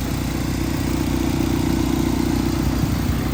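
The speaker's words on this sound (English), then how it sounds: "So, as you can see, it's running. Sweet sounding engine." Tuned Mazda MX5 with carbon boot and wide arch kit, its engine running steadily at idle, a loud, close, even low throb holding through the whole clip without talk.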